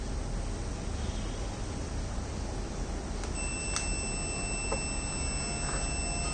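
A battery management system's temperature alarm buzzer sounds, triggered above 43°C: a steady high-pitched electronic tone starts partway through and holds continuously over a constant hiss, with a couple of brief clicks.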